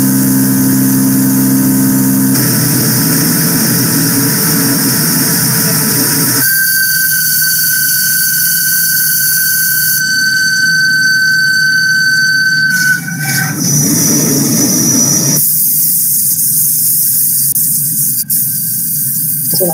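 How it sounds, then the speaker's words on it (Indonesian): A vertical machining center drilling with Tungaloy tooling: a loud continuous machine hum with a high whine that shifts in stages, broken by a brief rougher cutting stretch midway. "Ini salah satu contoh pemakaian di mesin PMC, vertikal mesinnya."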